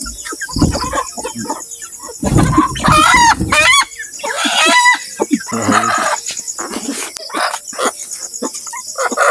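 Native chickens cluck and squawk close by in agitated bursts, with insects chirping steadily in the background.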